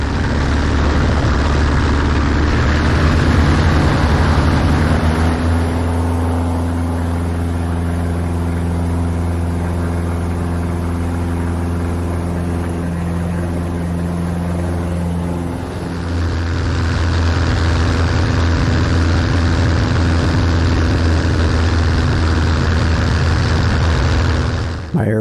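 Piper Super Cub engine running on a gravel bar while the plane turns, a loud continuous propeller drone with a deep steady hum that shifts in pitch midway and swells again near the end.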